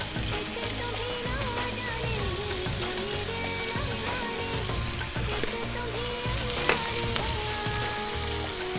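Two large chopped onions salted and sautéing in a pan make a steady, even sizzle with light crackles and stirring, close and unbroken throughout, with no voices.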